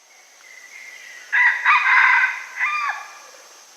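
A rooster crows alone, a faint opening note swelling into a loud, drawn-out cock-a-doodle-doo with a final tailing phrase, heard close and clear against a quiet background.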